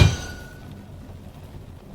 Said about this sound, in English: Pulls out a red, hot piece of iron and picks up a large hammer.